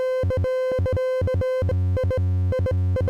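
A buzzy synthesized tone from a Lyra-8-inspired synthesizer plugin pulses on and off in a rapid, choppy pattern, alternating between a thin high pitch and a deeper one, steady and loud.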